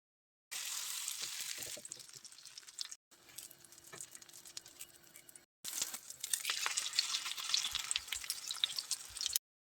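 Breaded zucchini sizzles and crackles as it fries in a hot pan in three stretches separated by brief silences, with occasional soft clinks and stirring.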